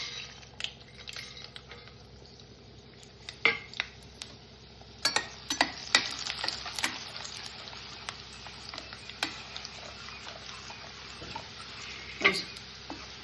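Mustard seeds and tempering spices crackle and sizzle in hot oil with asafoetida for amla pulihora, giving a steady close hiss broken by scattered sharp pops and spits, with no talking.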